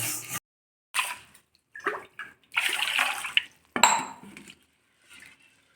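Water sloshes and splashes in a vessel as roasted moong dal lentils are rinsed by hand, in several separate bursts with short silent gaps between, close and fairly loud.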